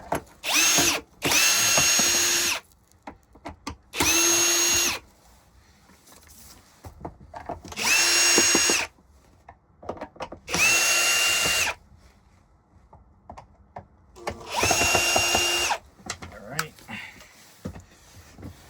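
Power driver backing Phillips screws out of a Hoover Elite Rewind vacuum, several loud whirring bursts of a few seconds each separated by quiet pauses and small clicks of handling.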